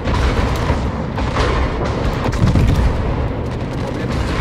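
Warship gunfire in World of Warships, an Alsace battleship: heavy rolling booms and rumbling cannon blasts fill the whole stretch, dense and loud with repeated sharp reports.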